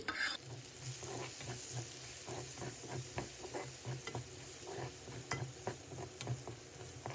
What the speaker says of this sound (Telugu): ఉల్లిపాయలు, పచ్చిమిరపకాయలు వేసుకుని డీప్ ఫ్రై చేసుకోవాలి